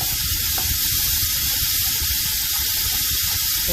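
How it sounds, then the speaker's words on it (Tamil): Steam hisses steadily and loudly from a pressure cooker as its pressure is released after two whistles, a continuous broad rush filling the whole stretch with no voices over it. "Two whistles are up, switch off, release the pressure."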